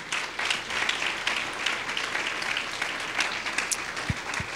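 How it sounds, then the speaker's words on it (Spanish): A church congregation applauds during a service, a fairly quiet wash of clapping with a few sharper individual claps standing out and a brief low thump near the end. "Dele un aplauso fuerte al Rey."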